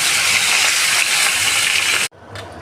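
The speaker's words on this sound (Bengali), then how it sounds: "প্রথমেই আমি মাছের মাথাটা ভেজে দেবো, কারণ তেলটা অনেক বেশি আছে" A carp head fries in a generous amount of hot oil, giving a loud, steady broadband sizzle that runs close and unbroken for about two seconds and then cuts off abruptly, leaving quieter faint background noise.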